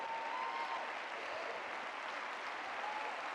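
A crowd audience at a talk claps steadily throughout, a dense even wash of many hands with no clear rise or fall, close and full.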